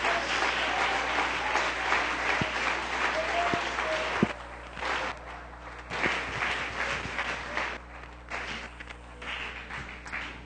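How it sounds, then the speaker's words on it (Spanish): Congregation at an evening church service applauding, a full burst of clapping that thins after a few seconds into scattered, uneven claps with some thumps. "Démosle ese aplauso al Señor en esta noche."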